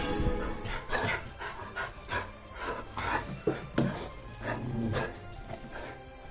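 Dogs in Genshin Impact panting and whimpering, a busy run of breathy pants and small whines close by, steady and moderately loud throughout.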